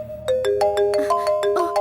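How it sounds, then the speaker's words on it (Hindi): A phone ringtone sounds for an incoming call in a Hindi-dubbed South Indian film, a quick bright melodic run of electronic tones repeating at close range. "पापा फोन कर रहे हैं।"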